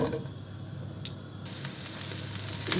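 Chopped onion fries in oil in a pan, a steady hissing sizzle that grows a little brighter and louder partway through, close by with no talking.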